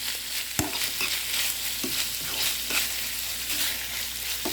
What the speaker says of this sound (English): I'm gonna mix this ketchup all the way through here.